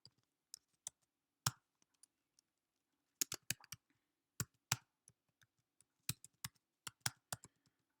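Keys tap on a computer keyboard in quiet, uneven bursts of sharp clicks, close and faint, with short pauses between runs of typing and no talk.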